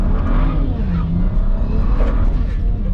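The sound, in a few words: BMW 335i stage 2+ on E85 launching in first gear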